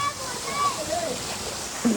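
Rushing waterfall water flowing and splashing nearby in Malvan, steady and broadband, with voices calling faintly over it.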